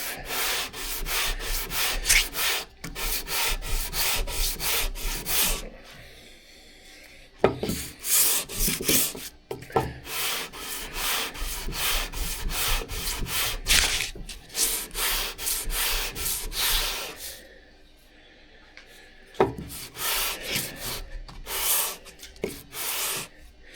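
Close, steady back-and-forth strokes of 220-grit sandpaper polishing a transitional hand plane, rhythmic and loud, with brief pauses between passes.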